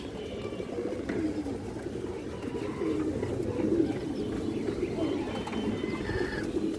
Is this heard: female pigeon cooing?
yes